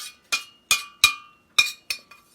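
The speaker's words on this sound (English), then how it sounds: "I'm going to go ahead and just scrape out all of the elderberries" A metal spoon working elderberries in a colander, heard as six sharp, ringing metallic clinks at irregular intervals, each decaying quickly into near silence.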